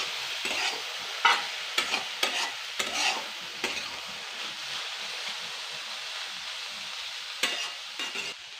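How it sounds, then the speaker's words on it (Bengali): A spatula stirs cabbage frying in a pan, sharp scraping strokes at irregular intervals over a soft continuous sizzle, heard close with no talking. "এটা একটু নেড়ে নেবো"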